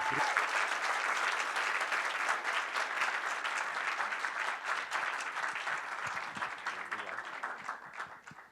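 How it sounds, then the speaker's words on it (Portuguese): Warm, sustained applause from an audience at a university event welcoming a political speaker, a dense wash of many hands clapping that holds steady and fades slightly at the end. "É uma salva de palmas para recebê-lo aqui."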